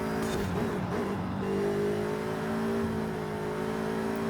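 An A-class car in Forza Horizon 5 holds a steady, loud engine drone that rises in pitch as it revs while driving, with no talk.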